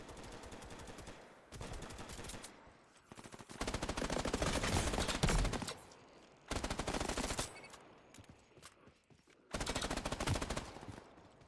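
Automatic gunfire in the video game Off The Grid, with rapid bursts of shots in four sustained strings separated by short gaps, loud and close, with no talking.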